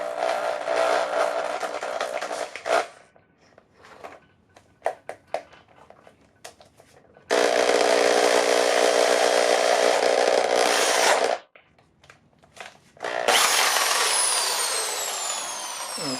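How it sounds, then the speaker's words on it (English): A power drill bores out a threaded hole in the engine block of a 2008 Acura MDX, giving loud, sustained whining bursts that stop and start with quiet gaps and small clicks between them. "we will drill out the hole the rest of the way"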